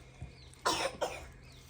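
Two sharp coughs close together, loud and near, with quiet room tone before and between them.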